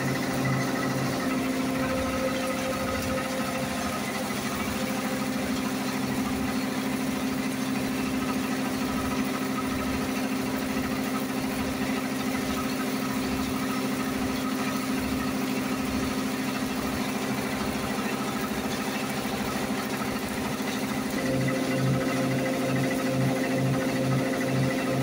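A maize flour milling machine in a village runs continuously, a loud droning motor hum with a steady rhythmic thumping pulse throughout, no voices.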